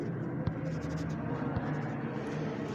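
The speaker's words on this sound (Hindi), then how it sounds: "ते पूरे का पूरा लिखेंगे" Pen strokes drawing Urdu letters by hand, a steady close scratching with small taps, continuous and without talk.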